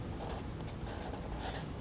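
Close, steady scratchy writing on a classroom board, a continuous rubbing stroke sound with no talk over it.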